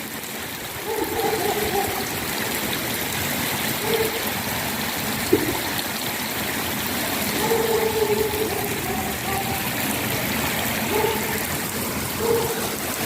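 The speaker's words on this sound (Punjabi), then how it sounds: "ਸਾਵਨ ਦੇ ਮਹੀਨੇ ਦਾ ਪਹਿਲਾ ਮੀਂਹ" First monsoon rain of the Sawan month falling outdoors in the early morning as a steady, even wash of rainfall, with soft water trickles and faint occasional knocks and no voices.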